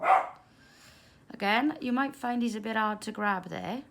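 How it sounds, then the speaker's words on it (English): A dog gives one short, loud bark at the very start while a chain maille orbital ring is being worked on, followed by a quiet pause and then steady close-up speech from a man. "Excuse my dog."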